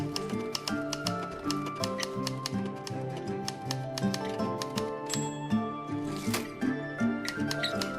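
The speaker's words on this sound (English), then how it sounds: "we need the typewriter sound to get another spirit, so we have that playing right now." Rapid typewriter key clicks from a sound effect in the video game Spirit City, dense and continuous over a layered musical backdrop with chimes and soft tones throughout.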